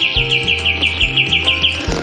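Cucak cungkok songbird chirping steadily in quick repeated bright notes, close and loud, over a low droning hum that pulses in longer blocks.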